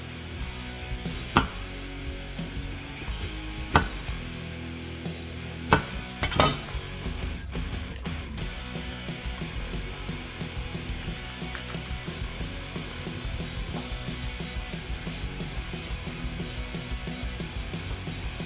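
A knife chops a bell pepper into big chunks on a cutting board while teriyaki pork is prepared, with a few sharp knocks early, then a steady run of quick close chopping taps.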